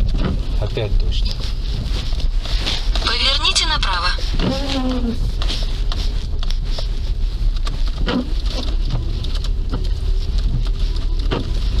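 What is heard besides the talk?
rain on a moving car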